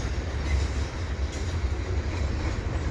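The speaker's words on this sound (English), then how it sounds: "here we have the CP train with double stacks coming up" A Canadian Pacific freight train with double-stacked containers rolls past at Dorval, a steady, loud rumble of wheels and rail noise filling the whole stretch without a break.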